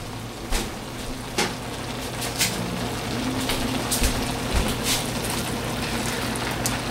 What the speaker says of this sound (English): we're going to go ahead and add the shrimp